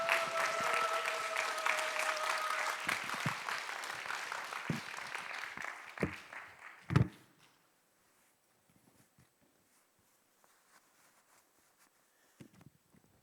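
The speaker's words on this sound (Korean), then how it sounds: "우리 목사님 위해서 박수로 우리 환영하고 축복하겠습니다" Church congregation applauding together to welcome a guest pastor at a homecoming service, steady dense clapping for about seven seconds that ends with a few loud final claps, then near silence with faint shuffles.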